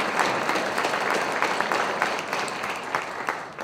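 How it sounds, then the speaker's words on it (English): An audience at a high school Veterans Day ceremony applauds, a dense, even wash of many hands clapping at close range, continuous and loud throughout. "Let's give all of them a round of applause"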